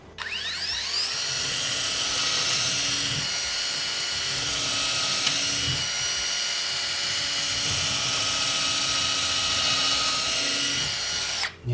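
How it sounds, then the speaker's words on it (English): A Black Zero power driver runs in auto mode, a loud, steady high-pitched motor whine with faint shifting tones as it works through the material, starting and stopping cleanly, with no speech. "auto just seems like it's sensing the torque and it either speeds up or slows down as you go through the material"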